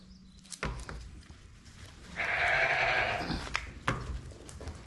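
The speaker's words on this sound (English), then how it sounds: "Forgive my sheep." A sheep bleats in one drawn-out, fairly close call, with clanks and knocks before and after it, as if from someone working on the rear drum brakes of a Volkswagen Rabbit pickup.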